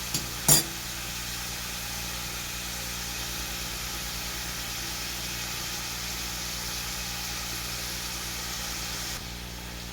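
Onion and chicken frying together in a pan with salt, a steady broad sizzle running through, a brief sharp clatter near the start and a faint engine-like hum underneath.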